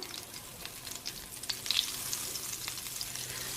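Oil and butter sizzle steadily in a pan, a soft continuous frying hiss with small pops and a few light scrapes as the fat is moved around.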